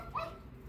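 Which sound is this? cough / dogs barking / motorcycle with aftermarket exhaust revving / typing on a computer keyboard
dogs barking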